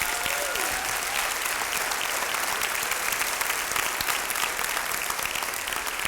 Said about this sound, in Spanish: si vas a aplaudir tienes que hacerlo con ganas.